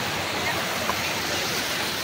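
Steady, full roar of a waterfall near Matanao, Davao del Sur, close and continuous with no pause, its rushing water filling the whole span.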